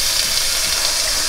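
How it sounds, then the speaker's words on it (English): Duck breast pieces sear in a hot pan, giving a brief, loud, dense sizzling hiss close up. "Listen to that sear."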